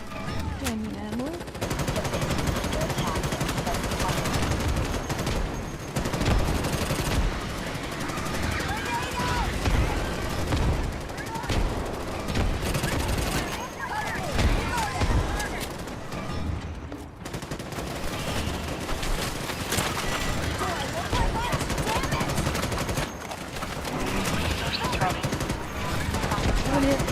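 Rapid automatic gunfire and bursts of shots from a video game, loud and nearly continuous, with someone talking over the shooting.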